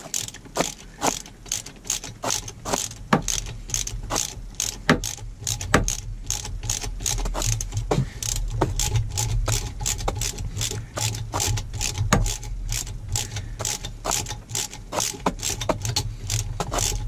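Ratchet wrench tightening exhaust manifold bolts on a Mercruiser 5.7 marine engine, rapid repeated clicking in bursts over a low background hum, close and clear, with no talking.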